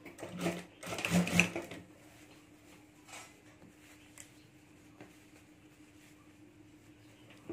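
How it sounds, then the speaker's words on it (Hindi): A sewing machine stitches a lace strip onto a potli bag in one brief run up close, followed by scattered faint clicks and handling noises. "तो इस तरह से हमें लेस पट्टी ऊपर रखकर यहाँ सिलाई कर देनी है।"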